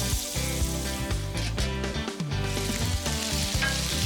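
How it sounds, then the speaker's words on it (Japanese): A Japanese hamburger steak fries and steams in a covered pan, a continuous sizzle largely buried under loud background music. "ハンバーグは焼き色がついたらひっくり返して蓋をして蒸し焼きにします。"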